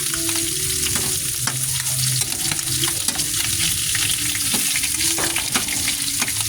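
Pork humba pieces fry steadily in hot oil until golden brown, a continuous close sizzle with occasional stirring scrapes and faint clinks, no talking.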